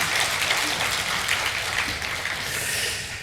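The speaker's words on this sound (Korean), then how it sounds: "박수로 격려해 주시기 바랍니다." Applause from a church congregation at a Sunday worship service in Busan, a steady, fairly distant patter of clapping that fills the room evenly and fades slightly at the end.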